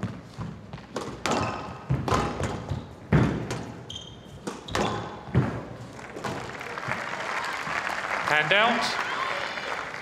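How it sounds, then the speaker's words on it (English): A packed grandstand at the PSA World Championship applauds squash player Ali Farag, clapping rising and swelling behind a commentator's talk, mixed with sharp thuds of the ball and footwork on court. "Ali Farag being applauded for his sportsmanship"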